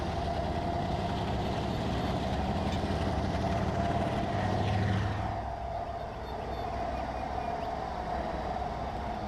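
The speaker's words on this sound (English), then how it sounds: "Why do the engine sounds kind of sound like lawnmowers?" Diesel locomotive engine idling in the Trainz train simulator game, a steady low rumble with a slight lawnmower-like quality, holding close and even with a small dip partway through.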